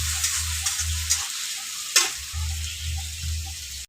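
Onions and green chilies sizzle in hot oil while a spatula stirs them, giving steady frying hiss with soft scraping strokes and one sharper knock partway through.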